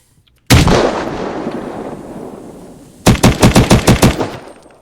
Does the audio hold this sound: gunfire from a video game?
yes